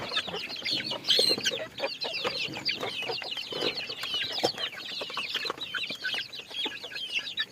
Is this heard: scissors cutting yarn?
no